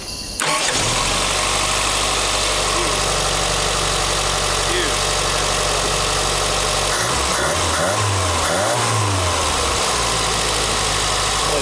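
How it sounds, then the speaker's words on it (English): A 1984 Chrysler LeBaron's 2.6 engine with a Mikuni carburetor cranks, catches and idles loudly up close, then revs up and down in several surges near the end. "So I'm just going to pump the key and see if it starts, and if it doesn't, then I'm going to floor it."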